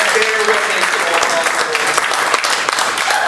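An audience at a candidates forum gives a round of applause, a dense, loud wash of clapping that fills the moment.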